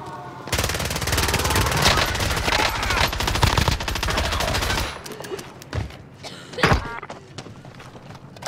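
Gunfire in the Call of Duty Rebirth Island video game: a loud, rapid automatic burst lasting several seconds, then scattered single heavy shots and thuds as the firing trails off.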